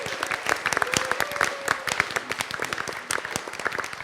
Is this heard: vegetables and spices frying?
no